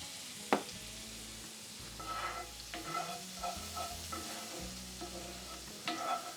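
Egg roll vegetable filling with powdered ginger sizzles in an overly hot skillet, a soft crackling fry broken by the scrape and knock of stirring, with no talk.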